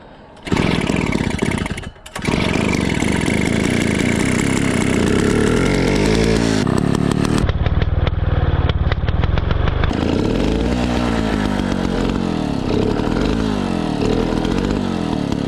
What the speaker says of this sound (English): I think it's about time to take our bike on a ride.